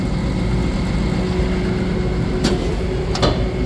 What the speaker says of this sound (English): Agitator, that's the agitator, forward and reverse.